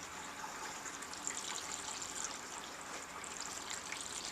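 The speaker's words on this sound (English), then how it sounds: "filling and flushing, to circulate your distilled water and bleach into the reservoir and then drain it" Water flushes and drains from a Blanketroll II reservoir filled with distilled water and bleach, a soft continuous trickling rush that holds steady and fairly quiet, with no voices.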